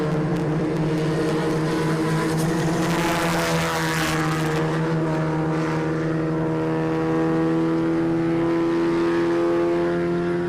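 Volkswagen Polo race cars racing on a circuit produce a steady, close, loud engine drone with strong tonal hum, sustained throughout without any talk.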